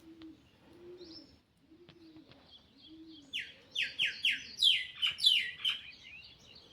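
Several bird calls at a quiet farm: soft, low pigeon coos repeat in the first half, then a myna breaks in with a burst of loud, harsh, rapid chattering notes that fill the last few seconds.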